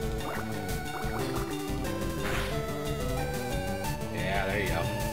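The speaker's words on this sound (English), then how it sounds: "Water gun." Water Gun attack effect from the Pokemon FireRed video game, a gurgling, bubbling burst of liquid sounds over dense chiptune battle music, loudest in a short rush near the end.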